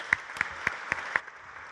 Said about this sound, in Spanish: Fuerte el aplauso al diputado federal Ignacio Mier.